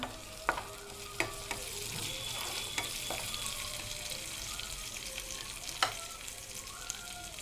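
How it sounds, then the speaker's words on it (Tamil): Curry leaves and green chillies sautéing in a pan, a quiet, steady sizzle with a few sharp spoon taps and scrapes against the pan at irregular intervals, no talk. "நல்லா வதக்கிக்கோங்க."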